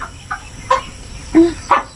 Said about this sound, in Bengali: কক কক কক কক করতে করতে আয় সূর্য